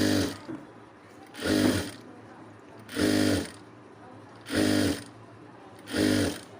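A sewing machine stitches a folded one-and-a-half-inch cross piece of cloth slowly in a straight line, running in five short, evenly spaced bursts with brief pauses between them, close and clear with no talking.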